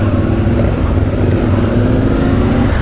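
A CF Moto 450 Ibex motorcycle engine runs close and loud with a steady, rumbling drone, its revs rising and falling slightly under a twitchy throttle, with no voices over it.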